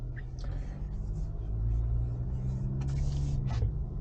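A Ford Ranger Wildtrak pickup drives along a road, its engine producing a steady low rumble with road noise throughout, faint voices murmuring over it.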